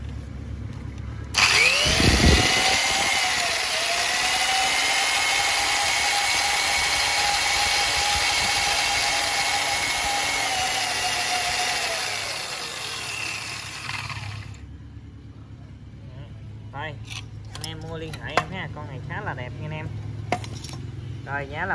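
A Japanese 100V electric sander whirs loudly and steadily for about thirteen seconds, then shuts off, leaving faint clicks and handling noises.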